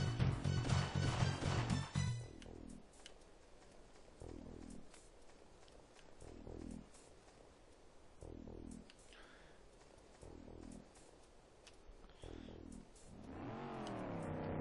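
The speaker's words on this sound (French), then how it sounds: "t'as une voiture qui te fonce dessus juste après là" A car in a video game rushes toward the player: quiet, recurring low whooshes of passing motion build to a rising engine whine at the end, with faint speech-like sounds in the background.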